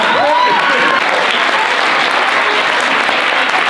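Steady, dense applause fills a comedy club as a live stand-up audience claps throughout, loud and close, with a brief voice or whoop rising faintly above the clapping near the start.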